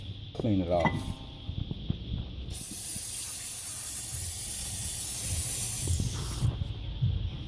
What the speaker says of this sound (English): Now that the brake caliper is off, you want to use some of the brake cleaner to clean it off.